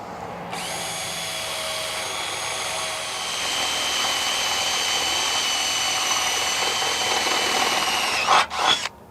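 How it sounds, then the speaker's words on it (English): Steady high-pitched whir of a power drill with a 3/8 inch bit boring a mounting hole for a chain shade, running continuously for several seconds before a brief stop-and-start near the end. "you can drill your second hole."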